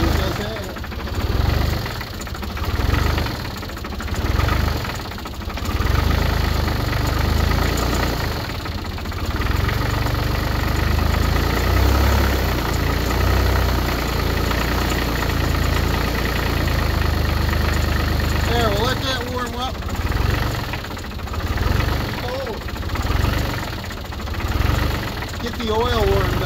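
A wood splitter engine idles in the cold as it warms up, running with a steady rumbling throb that pulses rhythmically throughout, with a voice talking now and then over it.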